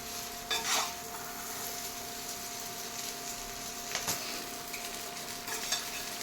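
Faint sizzling of vegetarian chow mein in a pan with a few brief scraping stirs and clinks of a utensil, quiet and intermittent over low background hum.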